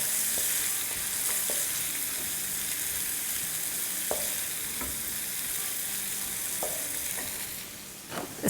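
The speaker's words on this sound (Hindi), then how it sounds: "इसमें डालेंगे एक अनियन, जो कि मैंने स्लाइसेस कर लिए। सौटे करते हैं थोड़ा" Sliced onion sautéing in a pan over medium-high heat, a steady close sizzle with occasional soft clicks and scrapes of stirring, no voices.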